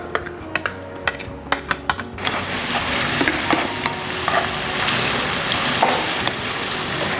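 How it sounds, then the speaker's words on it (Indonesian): Onions frying in oil over medium-low heat to make an onion oil for ramen: sharp clicks of stirring come first, then a loud, steady close-up sizzle that continues to the end with occasional scrapes. "jadi pertama kita akan goreng bawang-bawangnya itu sampai dia sedikit menguning ya"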